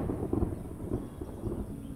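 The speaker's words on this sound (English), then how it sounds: "a storm is brewing" Low rumbling thunder of a brewing storm in a jungle cartoon, faint and distant, rolling in soft swells under a steady background hiss.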